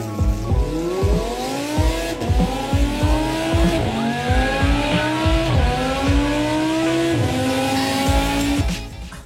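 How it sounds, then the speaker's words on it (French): A Jaguar XJ40's inline-six engine revs repeatedly, rising and falling in pitch as it accelerates through gears, loud and close with some tire squeal. "couvrir le son du 6 en ligne quand t'accélères parce que celui-là il gueule quand même"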